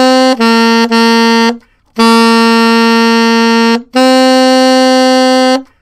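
Saxophone plays the original sheet-music melody of a song in three plain sustained phrases separated by short breaks, loud, close and solo with no accompaniment.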